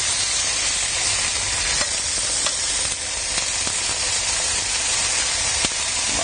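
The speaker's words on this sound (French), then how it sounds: "on va cuire nos filets de sole" Sole fillets fry in a non-stick Tefal pan, giving a steady, dense sizzle and hiss with occasional faint spatters and clicks, close up and without talk.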